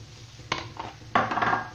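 Tuna filling for Moroccan briouates being stirred in a bowl, two soft scraping, clinking strokes of a utensil, the second longer and rougher, close by and fairly quiet against a low background hum.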